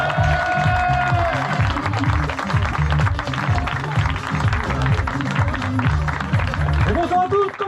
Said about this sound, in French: un tonnerre d'applaudissements pour Monsieur Moustache